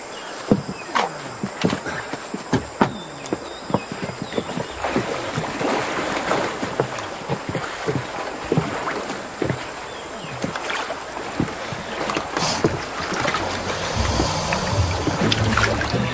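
A dugout canoe paddled through water as a radio drama sound effect: rhythmic splashing and knocking strokes repeat close by at a steady pace, with a soft wind-like wash underneath and no talking.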